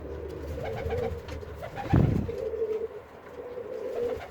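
A pigeon coos in soft, low repeated phrases, close by, with a brief thump of movement partway through.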